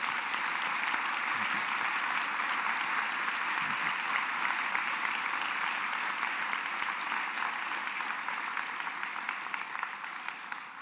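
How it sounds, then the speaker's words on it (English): Sustained audience applause fills a hall during a chancellor installation ceremony, a steady dense wash of many hands clapping that holds throughout and tapers slightly at the end. "Would you please join me in a round of applause for these people?"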